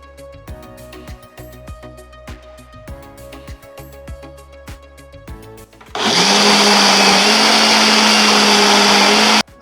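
A kitchen mixer grinds a cooled lakholi dal mixture, starting abruptly after a stretch of clinking and tapping and then running as a loud, steady, high-pitched whir for several seconds before cutting off.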